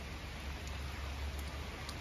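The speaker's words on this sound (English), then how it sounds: "it's pouring down here." Rain pouring down in Bonney Lake makes a steady, faint outdoor hiss with no break.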